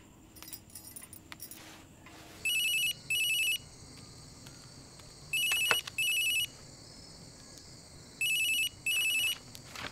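A mobile phone ringtone chirping in three pairs of short electronic bursts, spaced a few seconds apart, with quiet indoor background noise and some rustling between rings.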